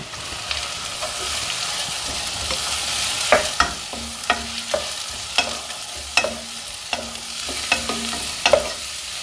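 Chopped onion, dried round chillies and curry leaves frying in hot oil for a butter beans gravy, a constant sizzle broken by repeated sharp scrapes and taps of a stirring spoon against the pan, with no talking.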